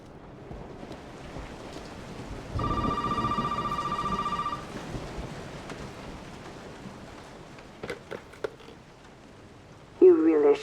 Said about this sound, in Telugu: ఫోన్ వస్తుంది.